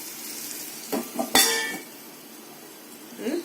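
A lid settles onto a pot of spicy potato kara curry with one sharp metallic clink, after a couple of softer stirring scrapes. A faint utensil sound follows near the end.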